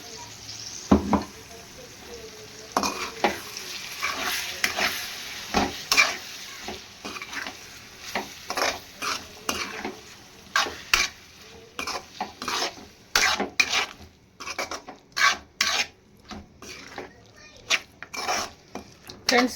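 Monitor lizard curry with tomato sauce sizzles in a pan while a utensil stirs and scrapes against the metal again and again in uneven strokes, loud and close, with no talking.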